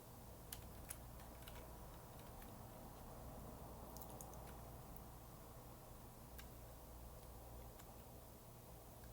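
Fingers typing on a computer keyboard, a quiet run of light, irregular key taps over a steady low background hum, with no talking.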